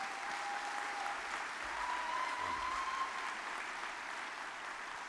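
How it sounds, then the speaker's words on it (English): Audience at a Hallmark University spring commencement ceremony applauds the graduates, a steady wash of clapping heard from a distance at fairly low level, continuous throughout with no talking on top. "Let's give them a round of applause."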